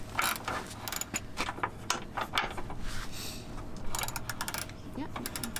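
Winch tightening onto a winch shackle, a steady rapid clicking ratchet of gears and cable grinding, close and continuous, with faint background voices.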